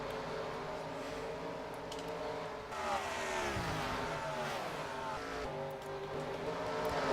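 Stock cars racing at Richmond in a video game, a steady loud engine drone with shifting pitch as cars pass and accelerate, continuous throughout.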